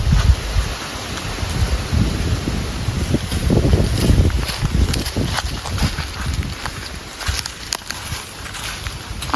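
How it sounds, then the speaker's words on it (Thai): Strong wind blows outdoors and buffets the microphone in a steady, loud, broadband roar with gusty low rumbling throughout; no one speaks. "คือลมพัดแรงมาก"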